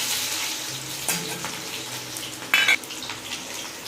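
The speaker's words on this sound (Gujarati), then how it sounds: "તો અહીંયા ડુંગળી અને બટેકા મેં સુધારેલા રાખી દીધા છે હવે અમે નાખી દઈશું તેલમાં" Chopped onions and potatoes dropping into hot oil with cumin, a soft frying hiss with a few clatters and a short bright splatter burst near the end, no talk.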